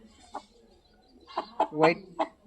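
An aseel rooster with a parrot beak on a breeding farm gives a few short, throaty clucks close to the microphone, one early and a cluster of louder ones near the end.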